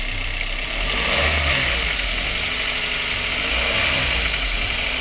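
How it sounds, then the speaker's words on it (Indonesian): A 2016 Daihatsu Gran Max 1.5 pick-up engine runs steadily close by, its even hum rising slightly as it is revved, and no one speaks over it. "Ini dari mesinnya. Mesinnya halus ya suaranya ya."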